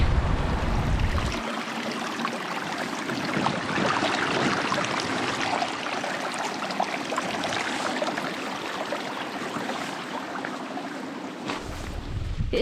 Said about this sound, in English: I've got to cross this river.